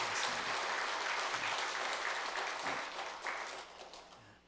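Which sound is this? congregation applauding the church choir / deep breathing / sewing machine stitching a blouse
congregation applauding the church choir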